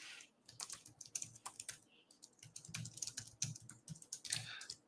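Rapid typing on a computer keyboard, a dense run of light clicking keystrokes in uneven bursts, close and quiet, with no talking.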